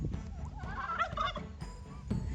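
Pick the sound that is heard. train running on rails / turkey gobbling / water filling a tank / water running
turkey gobbling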